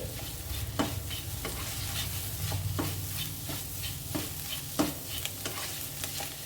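Eggs are scrambled in a hot frying pan for egg rice, a continuous soft sizzle broken by rhythmic spatula scrapes and taps every second or so, close up with no talking.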